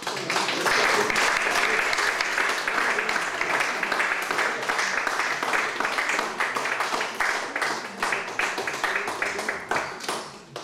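An audience at a French-language poetry and film gathering bursts into loud, sustained applause, dense clapping carrying on steadily for about ten seconds.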